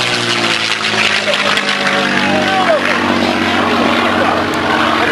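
A P-51 (F-51) two-seat propeller airplane flies by at an air show, its loud, steady engine drone filling the air with a slight pitch sweep as it passes, while a crowd and announcer talk underneath.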